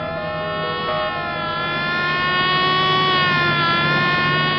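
A loud, steady siren wails continuously with a sustained, slightly wavering tone, close by and with no talking.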